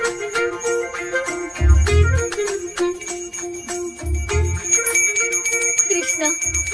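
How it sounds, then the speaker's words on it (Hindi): A bell rings by itself in a film scene, its bright tones repeating steadily over about seven seconds with a few deep low thumps mixed in. "मुझे जल्दी आओ बोल के यहाँ पर घंटी बजा रहे हो।"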